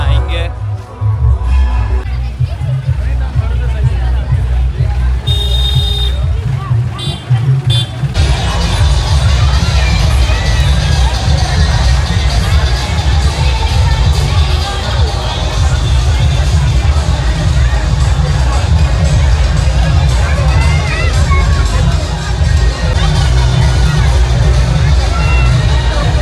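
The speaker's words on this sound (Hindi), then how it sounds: "आपने देखा कितनी ज़्यादा भीड़ है, बहुत ही ज़्यादा पब्लिक है और भगवान के आने का वेट कर रहे हैं" A large crowd waiting at the Jagannath Rath Yatra in Udaipur, a loud, dense hubbub of many voices and shouts. It grows fuller after a few seconds and holds steady, close around the listener, with a nearby voice speaking over it.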